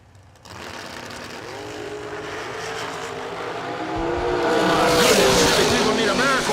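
A drag racing pair, a Chevy II against a dragster, launches at a bracket event: engine roar builds and rises in pitch as the cars pull away, growing louder toward the end, with an announcer talking over it.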